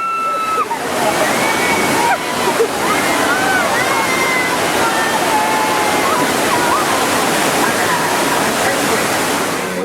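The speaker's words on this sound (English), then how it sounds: "the water flowing down the stairs" Water rushes down a flight of stairs on a film set, a loud, continuous roaring cascade with splashing, while people talk over it.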